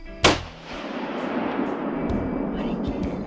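A single loud rifle shot cracks out near the listener at an animal outdoors, then decays into a long rumbling echo over steady background noise.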